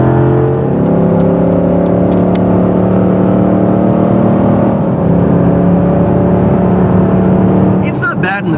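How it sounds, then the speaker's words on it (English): A supercharged HEMI V8 drones steadily at close range, a deep rumbling note rising slowly in pitch as it accelerates, with a brief burst of higher noise near the end. "Oh, you're gonna love the sound of that engine."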